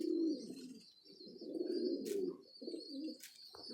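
Pigeons coo in soft, low, throaty phrases, repeated several times at close range, with a faint high tone and a few brief rustles behind.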